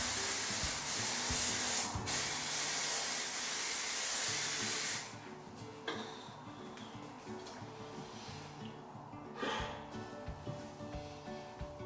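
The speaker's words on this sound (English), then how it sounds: "I'm going to spritz again with my design spray." A long continuous hairspray blast hisses for several seconds over pinned-up curls, then stops, followed by quieter handling noises and a second brief spritz.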